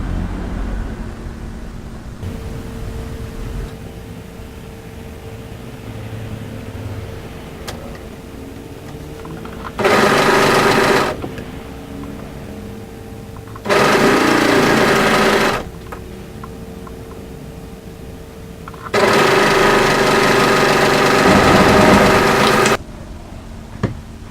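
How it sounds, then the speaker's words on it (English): Overlocker sewing machine stitching curved jogger pocket pieces together, three loud whirring bursts of rapid stitching separated by quieter pauses with faint handling sounds. "what we're going to do is overlock around the curve to stitch the pocket pieces together"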